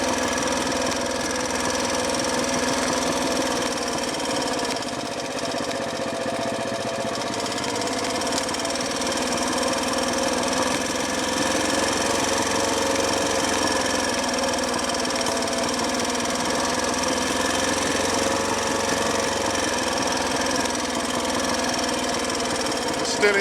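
A Royal Enfield Bullet 500 with points ignition, ridden in second gear on a green lane along an old Roman road, a continuous close engine drone holding steady throughout with no pauses.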